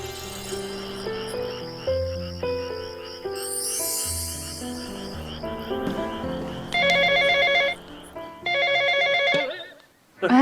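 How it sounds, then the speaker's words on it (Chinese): A telephone at a countryside cottage rings in a bright electronic bell pattern, two loud bursts separated by a pause, following quieter layered music. "哎，来电话了，"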